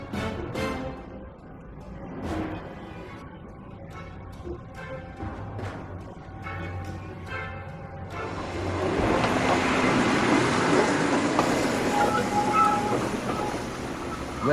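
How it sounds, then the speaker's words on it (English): Three diesel engines rumble at low pitch as a long train starts moving, followed by a broad rushing, grinding noise of wagons rolling that grows louder and steadier. "the 3 diesel engines slowly started to move the long train"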